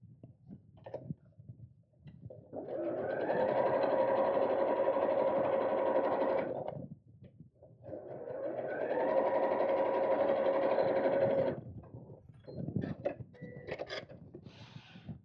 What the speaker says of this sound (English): I'm just going to sew along the right hand side